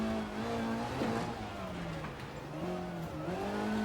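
A rear-wheel-drive rally car engine drones steadily in EA Sports WRC on snow and ice, a continuous mid-pitched hum that rises and dips with throttle, moderately loud over road rumble, no talk.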